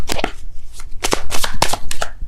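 Tarot cards shuffled in quick, crisp bursts of riffling and flicking, close and fairly loud, with several sharp snaps spaced across a couple of seconds and no talk over them.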